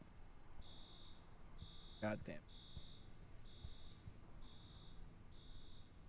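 A repeating electronic alarm beeps in the game INFRA, pulsing high-pitched tones in an even rhythm under quiet ambience, with a brief burst of noise and a person muttering partway through.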